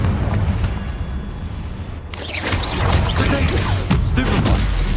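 The Confringo fire spell goes off in Hogwarts Legacy as a loud blast with a crashing burst near the two-second mark. Dense rumbling and crackling debris-like noise follows and keeps going to the end of the moment.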